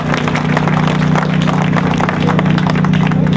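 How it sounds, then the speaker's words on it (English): Sustained crowd applause at an outdoor street dedication ceremony in Memphis, many hands clapping in a dense, even roar that holds steady throughout. "That deserves some applause"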